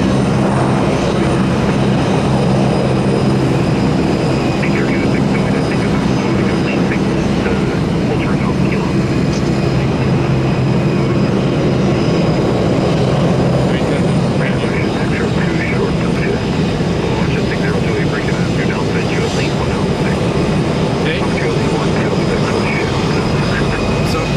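An Air Canada airliner taxis at Toronto Pearson airport, its jet engines producing a loud, steady, broadband roar throughout, heard close and continuous.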